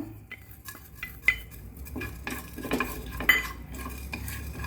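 Coriander seeds, urad dal and cumin dry roasting in a pan on low flame, with a spoon stirring and scraping against the metal in soft irregular strokes and a couple of sharper clinks.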